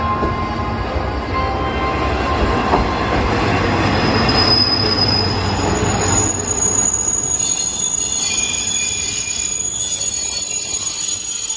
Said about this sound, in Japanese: まもなく列車が来ます。